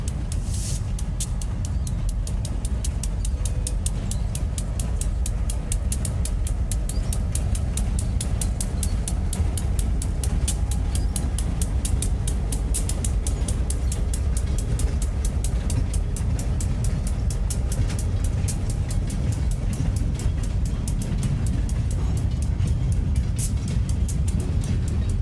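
Freight train with bright orange locomotives rolling past on a misty day in Cordele, Georgia: a steady, loud rumble of engines and cars that runs the whole time, with a rapid train of sharp clicks from the wheels.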